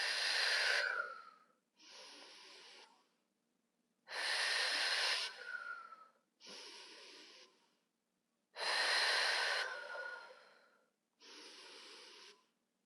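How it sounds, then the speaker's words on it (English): Deep, slow breaths are taken through a braced core, with long forceful inhales alternating with shorter exhales in an even rhythm, three full cycles, close and clear with no talk. "I'm going to breathe through that brace as I let my arms down"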